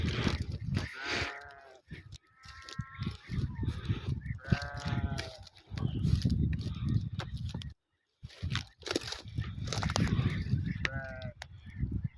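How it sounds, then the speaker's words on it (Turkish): A ewe bleats repeatedly at close range, calling its lamb that has fallen behind, calls separated by short pauses, with some rustling and low background noise between them. "Kuzusunu çağırıyor da."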